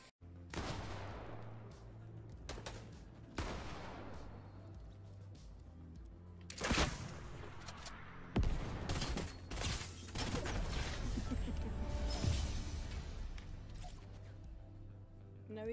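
Fortnite SMG fire rattles out in repeated short bursts and single sharp cracks, close and loud over a busy game backdrop, with voices chatting in between.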